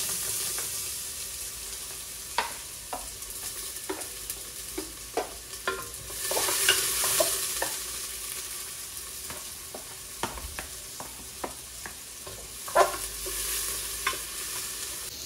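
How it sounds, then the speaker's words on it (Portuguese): Chopped onion sizzles in very hot, smoking oil in a pan, a steady close frying hiss broken by frequent sharp stirring clicks and scrapes, with a louder surge of sizzle partway through. "E aí eu gosto de despejar com óleo bem quente, porque a cebola murcha rápido"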